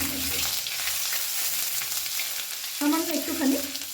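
Grated ginger and black cumin seeds sizzle in hot oil in a pan for milk-cooked bottle gourd, a continuous close frying hiss with louder spoon-stirring scrapes near the end.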